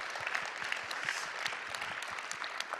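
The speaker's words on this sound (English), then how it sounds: "Applause for the sponsors and the speakers as well" Dense, steady audience applause fills a conference hall at JSWORLD Conference 2025, a crowd clapping for the sponsors and speakers, with no break for nearly three seconds.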